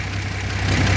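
A Rambler car engine with a misfiring cylinder revs briefly, a loud, low, rough drone that climbs slightly toward the end of the second, with no voices.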